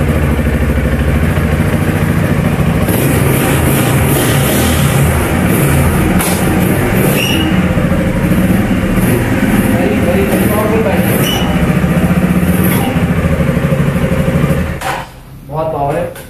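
A 250cc street motorcycle engine and exhaust runs loud and close, a steady pulsing drone that holds for most of the stretch before briefly dipping near the end.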